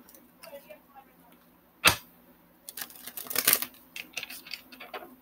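Tarot cards are shuffled in a crisp riffle, with one sharp snap followed by a rapid flurry of close papery clicks and flutters in a quiet room.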